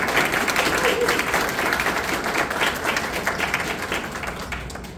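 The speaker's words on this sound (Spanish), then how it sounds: "Un gran aplauso para don Alberto Rojas." Audience applause at a book launch for a fantasy saga, a dense, steady wash of clapping from a crowd that holds for several seconds and slowly tapers near the end.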